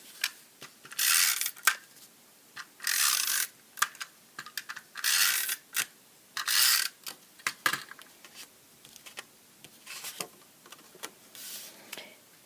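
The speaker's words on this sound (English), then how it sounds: "So using my snail adhesive, I'll stick this in the card." A snail adhesive tape runner is pressed along a greeting card in a series of short scratchy strokes, close and fairly quiet, with small clicks and taps between them.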